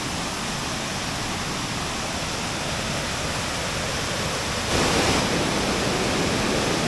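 Steady, dense rushing water roars close by at Dinner Falls near Mount Hypipamee, like a broad waterfall, growing slightly louder and brighter near the end, with no voices.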